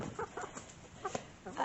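Hens clucking in short, soft bursts at close range while being fed by hand at the coop door, with quiet pauses between the calls.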